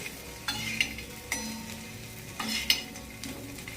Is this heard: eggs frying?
yes